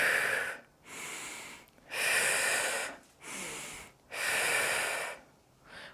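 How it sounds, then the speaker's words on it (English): Deep rhythmic breaths during a Pilates hip-strengthening exercise, alternating long airy inhales and mouth exhales in steady cycles, close and loud with no speech. "Inhale to lower, exhale to lift."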